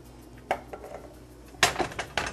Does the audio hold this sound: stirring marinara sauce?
yes